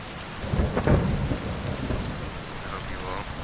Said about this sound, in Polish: To jest ta burza